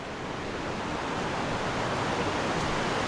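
Spring water flowing in a forest, a steady broadband rushing wash that holds constant and close, with no voices.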